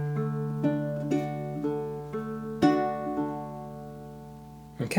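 Baritone ukulele playing a short fingerstyle melody with a double stop: a few close, clean plucked notes and chords ringing out and decaying, alone with no talk.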